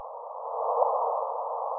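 A gravitational wave detection, computer-processed and amplified until audible, plays as a clean, sustained tone alone, with a quick upward chirp near its midpoint.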